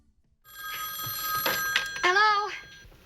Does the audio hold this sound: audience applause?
no